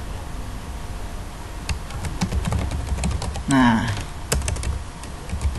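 Someone types an email on a computer keyboard with quick, uneven key clicks close by. Someone speaks over the typing, and a short spoken interjection cuts in near the middle.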